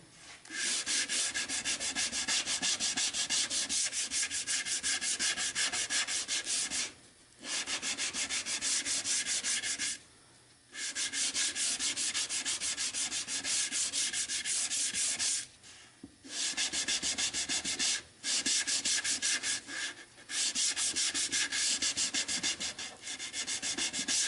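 Hand sanding of an alder wood lid on a mini chest produces a continuous, close, scratchy rasp of rapid back-and-forth strokes, broken by a few short pauses.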